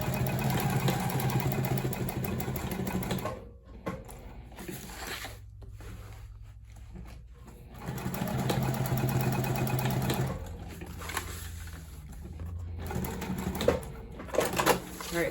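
A sewing machine runs in bursts while putting stay stitches into a tote bag, a steady mid-pitched whirring that stops and restarts several times, with short pauses and handling noises between runs.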